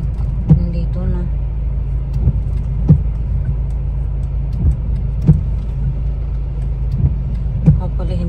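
Car arriving in a parking lot in the UK, a low engine rumble rolling closer beneath a string of sharp knocks and bumps, with people talking nearby.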